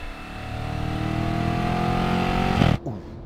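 A 2013 Audi RS5 with a dual-flap exhaust pulls steadily under load, its engine drone loud and close, then a short exhaust burp and crackle rings out as the throttle lifts near the end.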